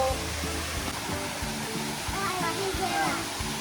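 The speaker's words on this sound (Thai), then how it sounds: "น้ำตก" Waterfall at Sankamphaeng hot springs, a steady broadband rush of falling water filling the whole clip, with children's voices and chatter faintly over it.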